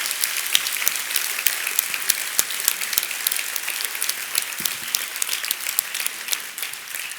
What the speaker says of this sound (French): Je vous demande donc un tonnerre d'applaudissements pour toutes les équipes de TSM.